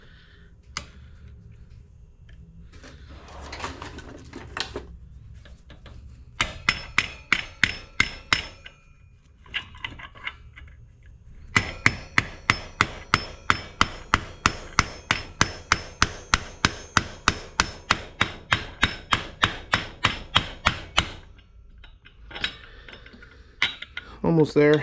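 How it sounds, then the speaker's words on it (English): A hammer taps a bearing onto a Vespa P200 cover held in a vise, heard as close metallic knocks, first in short groups and then as a long steady series of evenly spaced strikes, with a brief spoken remark. "you just tap this bearing on."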